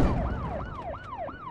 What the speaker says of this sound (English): Maybe the siren was a bad idea.